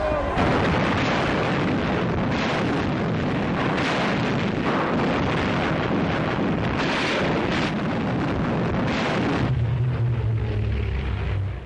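Archival war footage of the Italian invasion of Abyssinia carries dense, continuous artillery fire, a loud rumbling barrage of overlapping booms with gusty noise throughout and a lower rumble toward the end.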